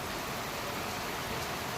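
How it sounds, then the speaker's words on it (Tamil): Steady rain pours down outdoors at a temple site a week after a consecration ceremony, a soft, even hiss of drops on surfaces that continues unbroken with no voices. "அற்புதமாக இன்று மழை இறங்கி அற்புதமாக பெய்து கொண்டிருக்குது"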